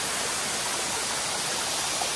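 A waterfall at a pre-wedding shoot location in Badlapur, with reduced water flow, gives a steady broadband rush of falling water, continuous and even with no break over the short stretch.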